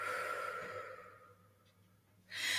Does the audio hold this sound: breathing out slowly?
yes